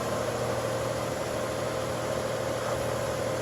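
A 2002 Toyota 4Runner SR5 engine idles in a shop with a steady, low, even hum at moderate level and no voices.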